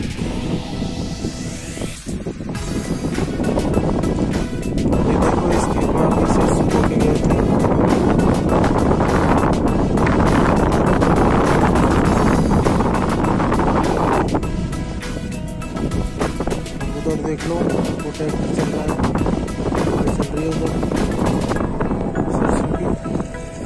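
Wind sweeps across an open farm field during mustard sowing, roaring and buffeting close to the microphone in a continuous, loud rush for the whole stretch, with no clear talk standing out.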